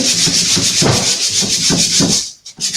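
Vintage wood veneer on furniture being sanded by hand, a steady close scratchy rubbing in repeated back-and-forth strokes that stops briefly near the end.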